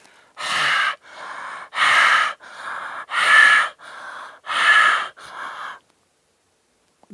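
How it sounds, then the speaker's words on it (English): Forceful rhythmic breathing exercise, full inhalations and exhalations pushed from the throat and abdomen: about eight loud breaths alternating strong and softer, close and unaccompanied, then silence. "Breathe in and out powerfully, moving the abdomen muscles but without jerking the abdomen"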